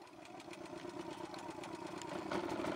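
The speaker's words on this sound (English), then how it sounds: "Firing up the generator!" A generator engine runs at a mining site, a steady mid-pitched motor drone with a quick throbbing pulse that grows slightly louder toward the end, up close.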